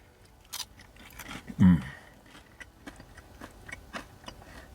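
Someone bites into a tavern-style pepperoni pizza with a thin, cracker-like crust, giving one loud crisp crunch followed by quieter chewing and soft clicks, close up and without talk.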